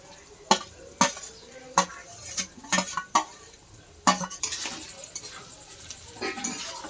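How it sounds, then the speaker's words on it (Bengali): Fried rice with soy sauce being stirred in a pan, a spatula clattering against the metal in sharp, irregular knocks and scrapes over a low background sizzle, close and fairly quiet. "দিয়ে একটু নেড়ে চেড়ে নেব"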